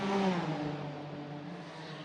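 GT4 race cars, including two Lotuses, pass during Macau Grand Prix qualifying, one engine whining loudly close by as it shifts pitch, then a steady droning blend of engines continues.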